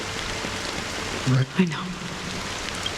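Steady rain hiss in the Honkai Star Rail game set in Penacony, a constant wash of falling drops with brief speech breaking through mid-clip.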